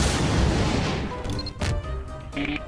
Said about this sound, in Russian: Ждите взрыв с крыши